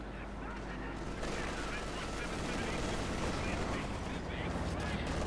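An MG 42 machine gun fires in the World War II strategy game Company of Heroes 2: dense, continuous bursts of rapid gunfire with battle noise layered over it, loud and unbroken throughout.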